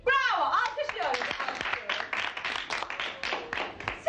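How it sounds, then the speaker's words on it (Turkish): Hands clap in a quick, uneven run of sharp taps under a lively, excited voice on a Turkish children's quiz show, the clapping fairly close and continuing through most of the moment. "Bravo! Alkışlıyorum."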